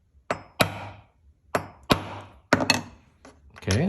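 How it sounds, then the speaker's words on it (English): A ball peen hammer strikes a rivet on a harmonica reed plate, giving five or six sharp, ringing metallic taps spaced irregularly, close and clear, with no voices. "Get my ball peen hammer."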